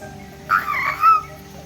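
A child imitates a frog croaking, giving two short warbling croaks close to the microphone with a brief pause between them, over a quiet room background.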